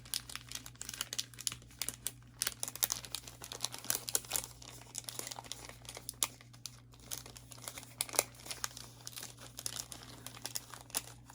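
Paper crinkles and rustles softly and almost continuously while an envelope is crafted, with irregular small crackles and no talk.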